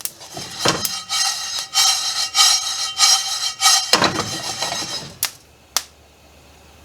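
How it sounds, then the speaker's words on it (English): Toasted chilies ground in a mortar and pestle, with repeated gritty scraping strokes in a steady rhythm, close and fairly loud, ending in a few sharp isolated knocks. "Now I'm going to grind them in a mortar and pestle in batches."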